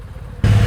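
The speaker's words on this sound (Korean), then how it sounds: "쌩쌩 도로를 내달리는 배달 오토바이들." Delivery motorcycles speeding along a road in Jeju during a traffic enforcement crackdown; a low engine rumble surges up loudly and close after a quieter stretch of road noise.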